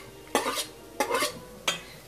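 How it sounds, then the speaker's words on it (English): A knife trimming shortcrust pastry edges on a quiche pie dish, three short scraping strokes in an even rhythm, close and clear. "With your knife, you're just gently gonna, you're basically just gonna cut the sides, spin it in your hand as you're doing it"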